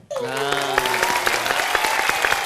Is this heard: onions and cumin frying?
no